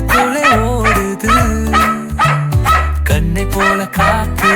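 A puppy barks in a Tamil children's song, with repeated yappy barks over a steady, bouncy musical backing that stays loud throughout.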